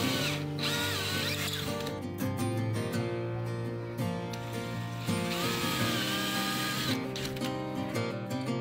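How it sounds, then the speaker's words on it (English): A power drill runs steadily and loudly at close range, pre-drilling anchor holes in a wall, its whining motor buzzing continuously with brief dips in speed. "I'm going to pre-drill those holes"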